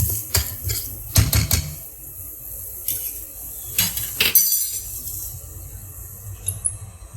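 Dal stirred into spice masala in a pot, close metallic clinks and scrapes of a spoon against the pot coming in irregular bursts, with quieter pauses between.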